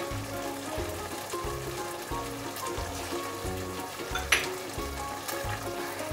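Chicken fries in a pan with three or four hot green chilies added, a continuous sizzle and crackle with a regular low thumping rhythm underneath and one sharp click near the end; no speech.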